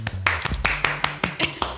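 Scattered, uneven hand claps from a small group of podcast hosts, a handful of separate claps at an irregular rhythm, close and fairly clear, with faint murmuring voices underneath.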